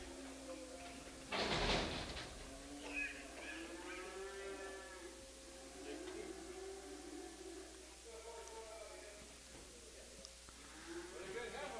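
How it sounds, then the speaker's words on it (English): Calves and stocker cattle moo at a livestock auction, one loud nearby bellow followed by several fainter, drawn-out moos against a steady background hum. "Here's Wade's cattle right there"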